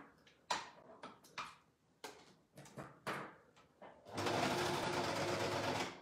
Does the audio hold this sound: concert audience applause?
no